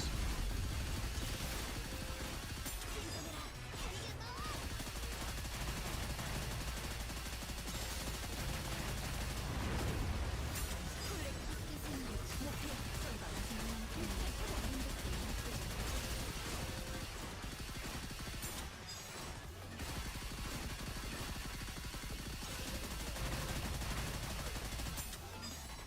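Rapid in-game gunfire and bursts as missiles are shot down in the Nikke video game, a dense continuous barrage with booms and mechanical clatter layered throughout.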